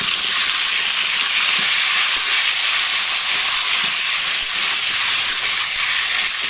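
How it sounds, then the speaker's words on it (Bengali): Potatoes sizzle steadily in a hot pan with oil, a continuous dense hiss that holds at a loud, even level close by with no pauses or talking throughout. "দেখুন ভালো করে আমি ভেজে নিচ্ছি"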